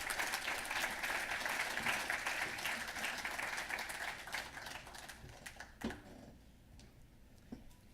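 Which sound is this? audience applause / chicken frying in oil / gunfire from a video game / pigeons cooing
audience applause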